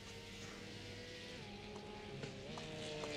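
Porsche Cup race car with a flat-six engine in a racing video game, a steady high revving drone with shifting pitch and faint tire noise, heard quietly without speech.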